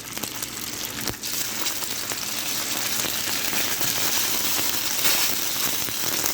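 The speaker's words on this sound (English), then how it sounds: "This is frying." Mush frying in butter in a pan, a continuous close sizzle and crackle with a brief clink near the start, no talking.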